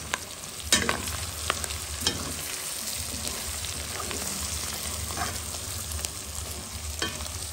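Sausage curry being stirred in a pot, cooked Réunion style with cabbage, steady close frying sizzle with intermittent scraping spoon strokes, and no talking.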